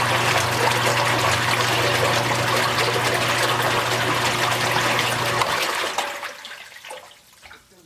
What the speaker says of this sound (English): this pump is already on a switch. You just turn this on and it'll circulate.